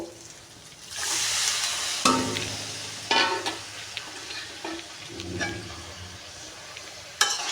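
Salted, boiled bottle gourd leaves drop into a hot frying pan for a shrimp or dried-fish dish, setting off loud bursts of sizzling that flare and then settle, with a few sharp pan knocks between them.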